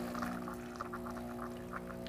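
A Gaggia Brera super-automatic espresso machine dispenses water while priming: a soft, continuous trickle over the machine's low, steady hum.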